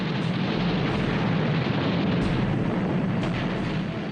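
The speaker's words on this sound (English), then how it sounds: "she took a bomb which penetrated 4 decks before exploding" A wartime bomb explodes aboard an aircraft carrier after penetrating four decks, rendered as a loud, sustained roar of blast and rumbling fire with deep low-end weight across the whole stretch, no voices.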